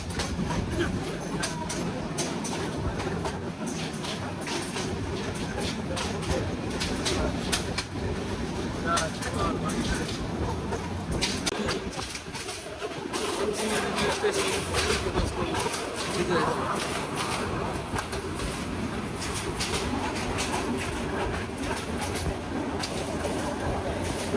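Train rolling toward Jamalpur, a steady rumble of the carriages with faint rattling, birdsong over it and voices talking throughout.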